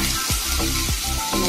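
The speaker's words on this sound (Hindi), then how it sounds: "अब मैं इसमें सब्जियां डालूंगी, आलू डाल दिए थोड़े से" Potatoes hit a hot pan already crackling with cumin and mustard seeds, and the oil gives off a loud, dense, continuous sizzle with faint rhythmic scraping, close by and with no talk.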